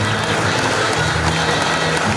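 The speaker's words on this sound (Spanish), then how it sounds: "Regalémosles un fuerte aplauso." An audience at a university graduation ceremony claps in a loud, dense burst, with crowd noise and a low hum underneath throughout the short stretch.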